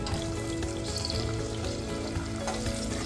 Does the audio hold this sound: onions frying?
yes